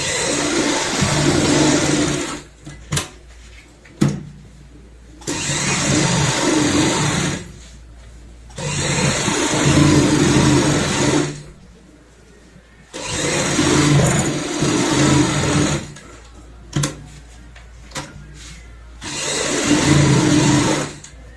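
A sewing machine stitches the sides of a shopping bag made from an old shirt, running in loud close bursts of whirring that stop and restart several times with quiet pauses between.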